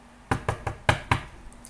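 Knocking on a bathroom door: five firm, evenly spaced knocks in quick succession, close and distinct against a quiet background.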